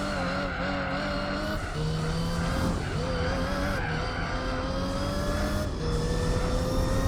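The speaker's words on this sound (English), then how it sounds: "Sounds beautiful though. I love that sound from the car." A race car's engine revs loud and constant in Gran Turismo 4, pitch climbing and dropping through gear changes, with tire squeal and skidding layered over the drone on a circuit.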